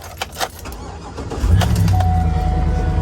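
A 2006 GMC Yukon Denali with the 6.2 liter V8 is started after a couple of key clicks, the engine catching with a loud rumble and settling into a steady, close idle.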